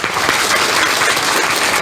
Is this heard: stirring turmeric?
no